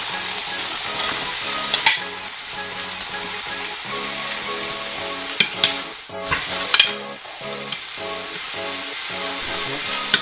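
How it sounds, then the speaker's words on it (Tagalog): Pork frying for lechon kawali sisig over medium heat, a steady close sizzle with intermittent scrapes and clinks of stirring in the pan throughout. "Haluan lang siya, haluin lang."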